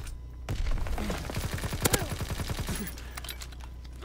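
Rapid automatic gunfire from a gun in Call of Duty WW2, a tight burst of repeated sharp shots running for about two seconds at close range over a low rumbling game backdrop.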